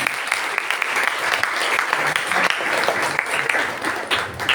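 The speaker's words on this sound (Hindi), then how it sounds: "जोरदार ताली से" Loud, sustained applause fills a church hall during a Sunday prayer service, many hands clapping densely and evenly throughout with no voices on top.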